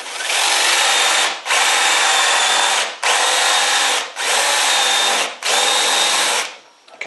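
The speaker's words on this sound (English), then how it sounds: "I've started enough of the hole now to take the jig away and I can keep drilling" A drill bores a concealed hinge hole into a wooden cabinet door guided by a jig, five loud sustained whirring runs separated by brief pauses, alone without talk.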